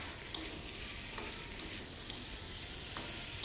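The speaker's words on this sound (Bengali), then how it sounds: "ভেজে রাখা যে চিংড়ি মাছগুলো ছিল এতে দিয়ে দিলাম। ভালো করে আমি কষিয়ে নিচ্ছি বন্ধুরা দেখো।" Prawns, fried earlier, are sautéed in a pan, giving a soft, steady sizzle broken by light, regular clicks and scrapes of a spoon stirring against the metal.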